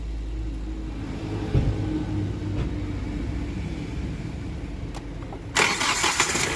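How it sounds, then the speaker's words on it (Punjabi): A Hyundai car engine with a back compressor issue fires up and settles into a steady low idle rumble heard up close, with a brighter surge near the end. "ਲਓ ਜੀ ਸਟਾਰਟਿੰਗ ਆ ਬਿਲਕੁਲ ਓਕੇ,"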